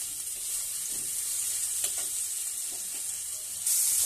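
Tomatoes stir-fried with salt in a hot pan for a fish curry, a steady close sizzle with soft scraping stirs running throughout, no talk.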